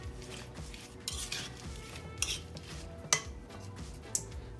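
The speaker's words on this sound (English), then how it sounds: "Stir this up." A spoon stirring a mixture with lemon juice in a bowl, a low scraping rhythm with a few brighter clinks of metal against the bowl, close and fairly quiet.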